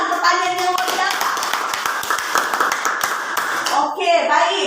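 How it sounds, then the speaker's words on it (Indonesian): Classroom of pupils clapping hands together in a burst of applause, dense and fairly loud, with children's voices mixed in and fading toward the end. "Tepuk tangan, pertanyaan yang luar biasa."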